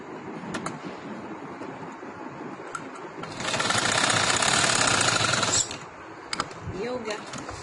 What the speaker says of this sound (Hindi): अब हम इसकी सिलाई ऐसे लगाते हैं।